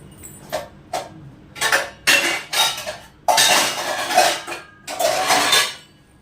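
Pots and pans clatter as a wok is lifted out in a home kitchen: a run of loud, close metallic bangs and rattles in uneven bursts with short gaps, and no talking.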